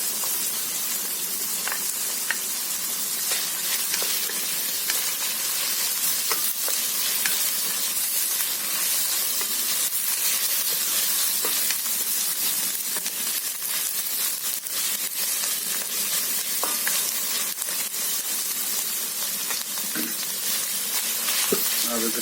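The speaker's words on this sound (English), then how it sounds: "I'm adding ginger and garlic that I thinly sliced as well." Thinly sliced ginger and garlic sizzle steadily in a hot pan, a continuous close frying hiss with occasional crackles and light stirring scrapes, no talk over it.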